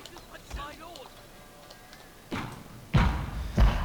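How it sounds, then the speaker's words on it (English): Artillery cannons fire shrapnel shot on a Total War: Shogun 2 Fall of the Samurai battlefield. Three heavy booming thuds land in quick succession, the later two louder, and a voice speaks faintly in the background. "my artillery's firing"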